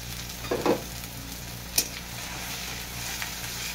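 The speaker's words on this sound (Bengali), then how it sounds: "রসুনটাকে একটু ভেজে নেবো" Chopped garlic frying in hot oil in a pan, a steady soft sizzle with a few brief stirring scrapes and clinks near the start, no talking.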